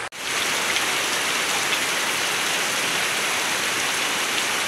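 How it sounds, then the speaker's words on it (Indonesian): Heavy rain pours steadily over a remote village, a dense, continuous hiss that stays loud and even throughout with no voices. "Hujan sudah mulai turun baraya. Ini sangat lebat sekali hujannya."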